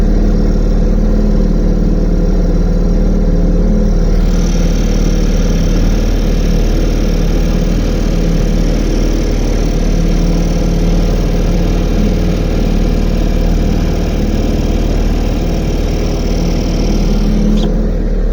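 WW2 rescue launch engine running with the throttle raised, a loud, steady, close drone with constant vibration and no change in pace, heard alone without talk.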